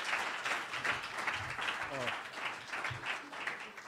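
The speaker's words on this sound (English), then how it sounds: "please let's give Mr. Doug Hollett a big hand of applause." Audience applause at a National Energy Technology Laboratory event, moderate clapping running throughout under a voice talking over it.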